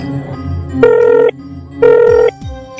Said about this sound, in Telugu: ఇప్పుడే ఫోన్ చేసి మాట్లాడతాను.